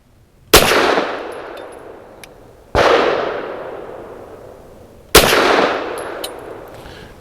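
Three loud, close pistol shots from a Walther PDP Match Steel Frame at an outdoor range, a couple of seconds apart, each with a sharp crack and a long ringing decay, plus faint metallic clinks between.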